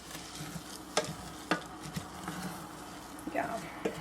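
A spoon stirs cooked breakfast quinoa that is starting to stick to the bottom of a pot. It makes quiet, sharp scrapes and clicks at irregular intervals over a soft, low sizzle.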